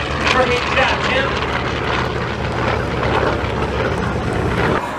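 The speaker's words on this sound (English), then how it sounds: "That is scoring 70-year-old Corsair coming down our show line." A roughly 70-year-old F4U Corsair warbird makes a pass down the show line at an airshow, its loud, steady propeller-engine roar sustained throughout.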